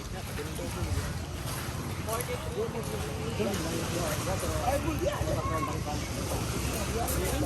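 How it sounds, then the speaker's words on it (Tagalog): A motor boat drones steadily on the sea off White Island, Camiguin, with wind buffeting the microphone and people talking over the engine throughout. "Yan, sasakay na sa bangka."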